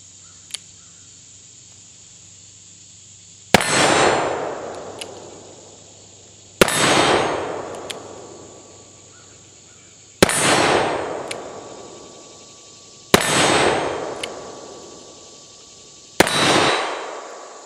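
An Uberti 1860 Army cap and ball revolver loaded with homemade felt wads fires five shots at a steel target, each a sharp crack with a ringing clang, spaced about three seconds apart and loud and close.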